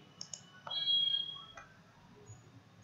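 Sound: computer mouse clicking

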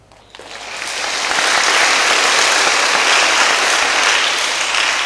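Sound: audience applause at a Buddhist talk

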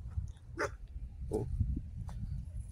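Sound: stray dogs barking

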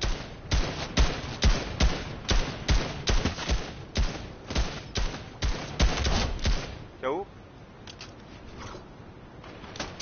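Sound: sniper rifle gunfire in a video game

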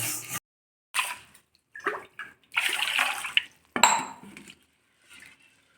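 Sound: water washing roasted moong dal lentils

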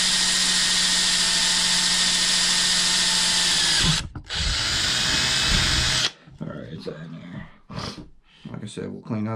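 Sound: drill running

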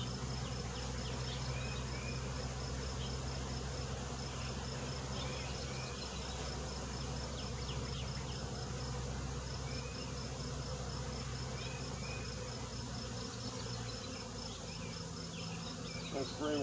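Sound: honey bees buzzing at an open hive

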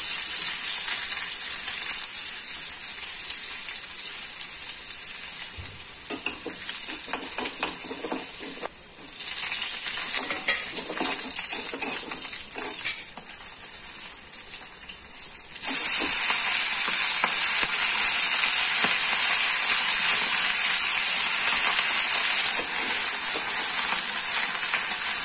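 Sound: fenugreek leaves frying and stirred in a kadhai

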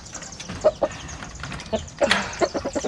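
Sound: chickens, hens and rooster clucking

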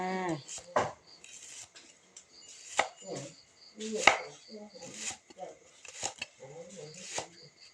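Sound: chopping shallots with a knife

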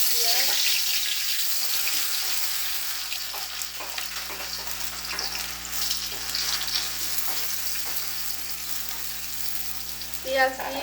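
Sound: food added to hot oil, frying

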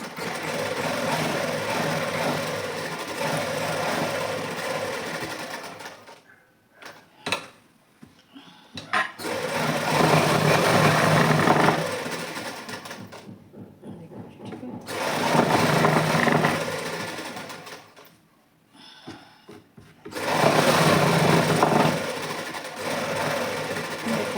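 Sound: sewing machine stitching suit lining

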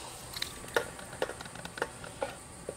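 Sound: onion and mushroom sizzling in a pan

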